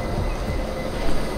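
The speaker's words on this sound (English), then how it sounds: "we are off at the Cork station, and I'll show you the train, the engine that we always used to enjoy" Railway engine at Cork station in Ireland, a steady, loud rumbling drone with broad noise throughout and a slight swell near the end, no voices.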